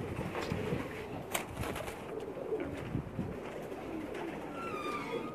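Pakistani breeder pigeons in a loft, soft repeated cooing close by amid faint rustling and occasional wing movement, with quiet background noise and no talk.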